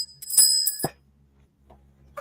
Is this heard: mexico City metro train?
no